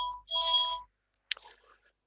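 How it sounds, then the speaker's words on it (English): A mobile phone ringtone goes off in the background during an officer training session, a short bright electronic melody lasting under a second, followed by a few faint clicks and brief rustling. "Sorry, that's my phone in the background."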